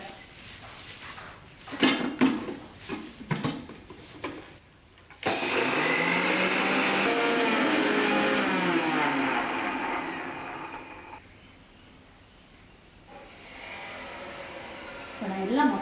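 A kitchen mixer grinder powders dried spices in one long, loud, steady whir lasting several seconds, then stops; clatter and handling noises come before it and a quieter stretch follows.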